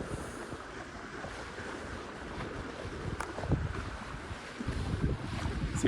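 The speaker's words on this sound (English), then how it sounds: "The wind's definitely picking up." Wind buffets the microphone on a choppy lake during a boat ride, a steady rough rush with stronger gusts and water slaps toward the end, no voices.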